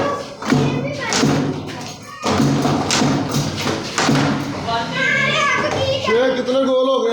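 Handball game challenge between children, with the ball repeatedly thrown and thudding loudly at close range while kids shout and talk throughout.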